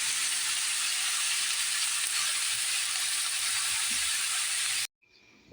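Snake gourd (chichinga) fries in a pan with a steady, loud, close sizzle that hisses continuously and then cuts off abruptly, leaving faint room sound.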